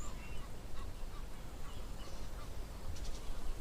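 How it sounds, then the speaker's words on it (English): Egyptian geese honk at an African waterhole, a busy chorus of calls from several birds at middle distance over a steady outdoor wash, with no talk. "You can see plenty of these Egyptian geese all here in front."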